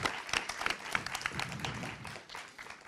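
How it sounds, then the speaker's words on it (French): Audience applause at a French business conference on entrepreneurship, fairly quiet and brief with scattered individual claps that thin out toward the end. "applaudissez"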